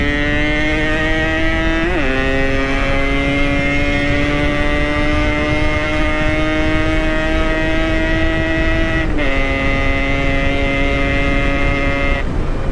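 A Yamaha RX King two-stroke motorcycle drones steadily while riding, its buzzing exhaust tone holding constant with brief dips at gear changes.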